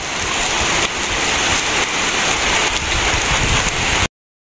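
Steady, dense rain pours down without a break, a constant close hiss of drops hitting a surface.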